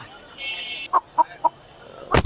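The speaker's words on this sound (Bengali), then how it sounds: "খুব বিগ সাইজের একটা মোরগ" A very large rooster at a poultry market in Tongi gives a few short, close clucks in a quick series, then a louder burst of sound at the end.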